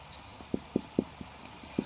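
Chalk tapping and scraping across a classroom board in short, rhythmic strokes, a handful of distinct taps spaced about a quarter second apart, close and fairly quiet with no talking.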